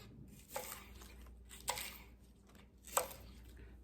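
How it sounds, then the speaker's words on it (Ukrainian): A knife slices romaine lettuce through its firm center rib for a Caesar salad. Three distinct crisp, crunchy cuts are spaced about a second apart and heard up close against a quiet kitchen background. "тепер будемо нарізати салату"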